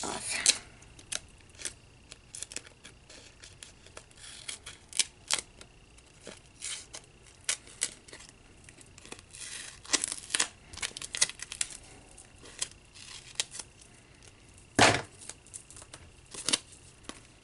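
Scissors cutting paper for a 6x6 birthday party mini album, with many short crisp snips and paper rustles scattered irregularly across the clip, close and moderately quiet.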